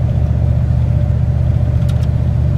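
A 1995 Dodge Ram pickup with a 5.9L V8 pulls hard along an icy-patched highway, its engine droning steadily and loudly up close with a deep, continuous rumble and no talking.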